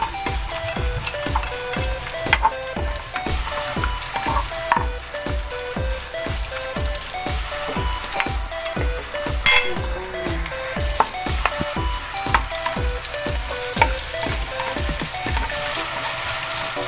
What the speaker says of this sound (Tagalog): mainit na yung mantika. Mula natin sa bawang, sibuyas